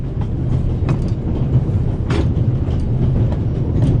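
A train rolling along rails as a drama sound effect gives a steady, loud low rumble with rhythmic clicks from the wheels, continuing without pause and without talk.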